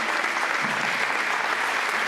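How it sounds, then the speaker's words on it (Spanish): Continuous, vigorous applause from a church congregation fills the space, steady and full for the whole moment with no pause. "Aplaudilo con todas tus fuerzas."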